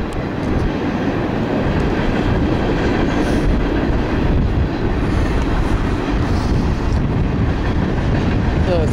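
Norfolk Southern or CSX freight train passing at Berea, a steady, loud, continuous rumble of rolling railcars with faint wheel clatter throughout, no break in the noise.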